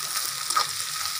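Onions frying in a pan as they slowly turn brown, giving a steady, close sizzle that runs evenly throughout with no voices over it.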